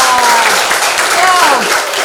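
A short burst of applause for students in an Indonesian art classroom, dense clapping heard close and loud, with voices and a faint tonal sound mixed in.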